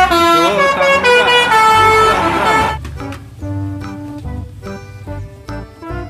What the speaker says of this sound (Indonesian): City bus. Bus kota.